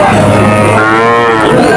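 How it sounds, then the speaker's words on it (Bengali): Cattle moo loudly and repeatedly at the Chuknagar cattle market in Khulna, a long drawn-out bellow carrying close over the busy livestock yard. "অনেক গরু আছে"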